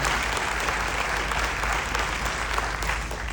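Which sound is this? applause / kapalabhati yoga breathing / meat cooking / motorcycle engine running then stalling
applause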